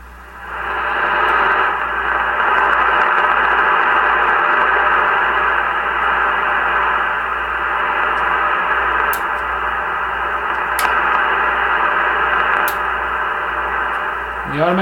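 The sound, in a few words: Henry Tempo One ham radio receiver audio with static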